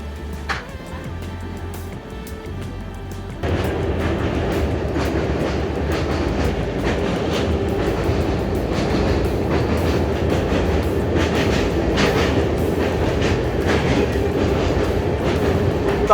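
An LHB-coach Sealdah–Ballia express runs along the tracks, heard from on board. A steady loud rumble sets in after a few seconds, with a rapid rhythmic clickety-clack of wheels over rail joints throughout.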